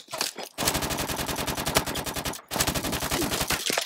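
Rapid automatic gunfire from Call of Duty: Advanced Warfare rattles in two long, loud bursts of evenly spaced shots, split by a brief gap and preceded by a few isolated shots.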